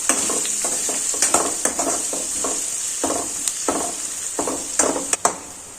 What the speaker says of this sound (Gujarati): સૌપ્રથમ આપણે ડુંગળી સાતળી લેશું. ડુંગળી પ્રોપર રીતના સતળાઈ જાય ત્યાં સુધી સાતળવાની છે.